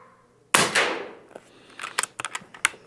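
A single sharp crack from an Air Venturi Avenge-X .25 caliber airgun firing a light pellet, loud and close, followed by a short scatter of quieter metallic clicks of the gun being handled, with no talk.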